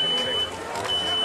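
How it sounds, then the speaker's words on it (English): A Spectralert Advance smoke alarm sounds during a fire flashover and sprinkler demonstration, a steady high-pitched electronic tone held through most of the moment, briefly dipping, over crowd babble and background noise. "You hear the smoke detector going off?"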